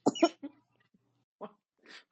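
A single short cough close by, followed by a brief pause, a faint catch of breath and a soft exhale.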